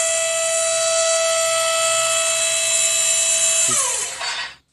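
Cannon reloading in a Minecraft PE 1.18 addon: a loud steady mechanical whine with a high tone holds for several seconds, then pitch slides and sweeps near the end before cutting off.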